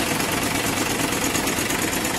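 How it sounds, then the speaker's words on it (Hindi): A 2018 Mahindra 575 tractor engine runs steadily close by, giving a dense, continuous rumbling drone with a fast, even chug and no talking over it. "देखिए क्या शानदार आवाज है भाइयों, ट्रैक्टर की आवाज सुन सकते हैं आप"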